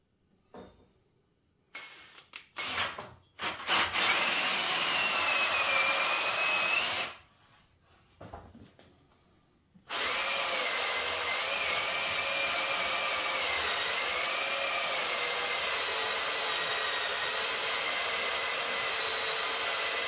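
A worn, old power drill whirs loudly in long steady runs while assembling scaffolding, stopping and restarting a few times with brief clicks and handling noises between bursts.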